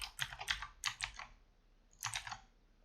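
Computer keyboard typing while deleting CSS code, with quick close bursts of clicking keystrokes, a short pause, then another burst, and no talk over it.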